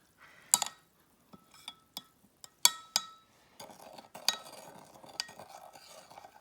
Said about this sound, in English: You're going to stir that all up, Aubrey.